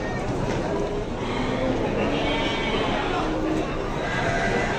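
Garut sheep bleat in the crowded Tanjungsari animal market, with scattered calls mixed into a dense bed of voices and market bustle.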